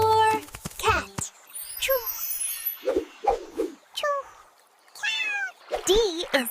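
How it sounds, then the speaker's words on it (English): A cat meowing in a children's alphabet song, with a few short, rising meows set among sung or spoken voices and bright musical tones. "C is for cat."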